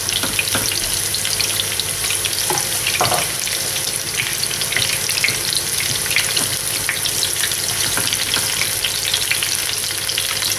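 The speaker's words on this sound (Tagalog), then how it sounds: "mag-init lang tayo ng oil dito sa pan. Piprito natin yung onion." Onions fry in hot oil in a pan with a loud, continuous crackling sizzle, broken by a couple of faint utensil clicks and no voices.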